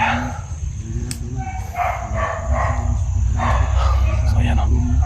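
Dogs barking in a rural camp area, several yips and barks scattered through the clip amid steady outdoor background noise.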